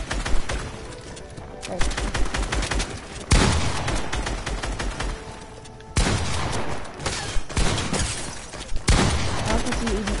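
Rapid bursts of gunfire from shooting in a video game, volleys clustering loudly with sharp blasts and pauses between, while a player speaks briefly over the action.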